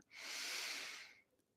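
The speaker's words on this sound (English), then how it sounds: "take a deep and clearing breath" A single deep, slow breath during a meditation, a soft airy rush that swells and fades over about a second, faint and close, with no talking.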